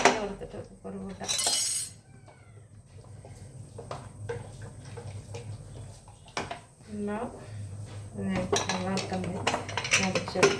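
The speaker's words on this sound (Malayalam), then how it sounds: "നിറക്കി കൊടുത്തിട്ട് കുക്കർ കൂട്ടാം." Metal pots and a pressure cooker clank and clink on a kitchen counter while the cooker is filled and closed, several sharp knocks and rattles, with a voice talking through parts of it.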